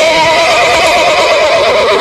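Cobalt, a horse, whinnies in a loud, sustained, wavering neigh as it rears up beside a horse trailer, heard close and alone for about two seconds.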